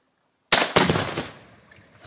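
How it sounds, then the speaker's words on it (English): A Tannerite charge packed into a pumpkin with gas detonates after a silent moment: two sharp, loud blasts in quick succession, then a rumbling decay fading over about a second, with no talking. "That was probably the coolest explosion the coolest in the world."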